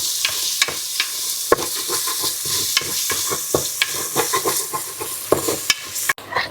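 Onions fry in a hot pan with a constant sizzle, while a spoon stirs them in repeated scraping knocks against the pan at an irregular rhythm, close by and without speech.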